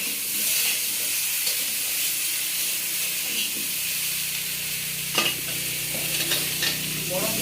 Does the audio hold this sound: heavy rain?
no